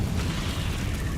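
A Confringo blasting spell exploding in Hogwarts Legacy, a short dense boom with heavy low rumble filling the whole moment, loud and close, with no voices.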